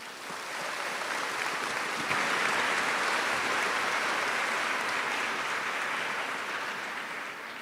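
Large crowd applauding at a high school graduation commencement ceremony, a broad steady roar of clapping that swells and holds for several seconds, somewhat distant and even, with no voices on top.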